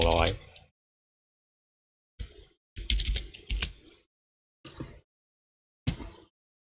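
A value is typed on a computer keyboard during work in structural slab-design software. A few short, separate bursts of key clicks are spread over several seconds, with silence between them.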